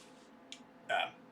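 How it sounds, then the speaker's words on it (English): A loud, close burp into a microphone during a game session, one short throaty burst preceded by a faint small blip, with quiet background hum and no talking. "I do not plan to keep burping into the mic"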